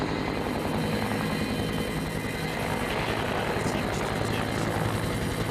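A logging helicopter lifts logs up through the forest canopy, its rotor and engine making a loud, steady, continuous drone throughout.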